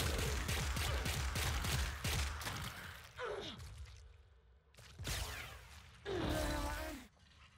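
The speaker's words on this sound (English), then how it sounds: "One of the best when it comes to semi-automatic pistols" A Tysis semi-automatic pistol in Warframe fires a rapid series of sharp shots, then several separate bursts with whooshing, hissing effects, fairly close and alone.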